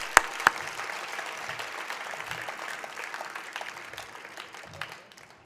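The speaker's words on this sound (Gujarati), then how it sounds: "ગુરુજીને તાળીઓથી સ્વાગત." Applause greets a guru at a spiritual discourse, a steady wash of many hands clapping from the crowd at moderate loudness, holding for several seconds with a couple of sharp louder claps near the start before thinning slightly.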